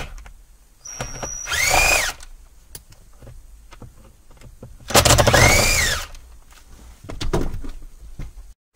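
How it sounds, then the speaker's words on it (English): A power drill backs Phillips screws out of the steering column cover on a 2007-2009 Kia Sorento. Three loud close whirring bursts rise and fall in pitch, with quiet handling noises between them. "I'm going to remove the three Phillips screws from the bottom."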